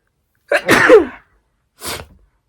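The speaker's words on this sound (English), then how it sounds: "I gotta sneeze, hold on." A single loud sneeze with a sharp wind-up, followed by a short pause and a smaller second burst, close and alone.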